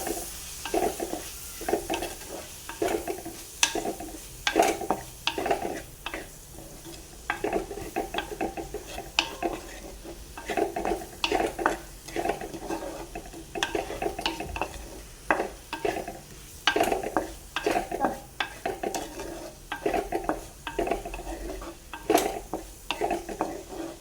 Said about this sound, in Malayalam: ജിഞ്ചർ ഗാർലിക് വെളുത്തുള്ളി ഇഞ്ചി ചതച്ചതും കൂടി പേസ്റ്റാക്കിയിട്ടോ അല്ലെങ്കിൽ ചതച്ചിട്ടോ കൂടി ചേർത്തിട്ട് നല്ലോണം വഴറ്റിയെടുക്കണം.